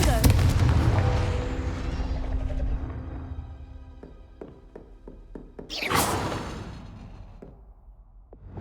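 A Confringo fire spell cast in Hogwarts Legacy bursts with a booming whoosh, followed by a series of sharp thuds and a later bright swooshing blast, with spoken voices over parts of it.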